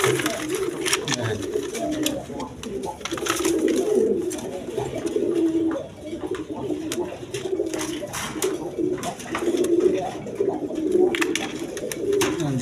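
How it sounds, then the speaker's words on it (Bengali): Pigeons coo continuously and close by in low, rolling, overlapping calls, with a faint background hiss. "এখানে এক পেয়ার কবুতর আছে"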